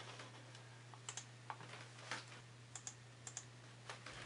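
Keys clicking on a computer keyboard as a new password is entered, a dozen or so light, irregular taps over a steady low electrical hum, close and quiet.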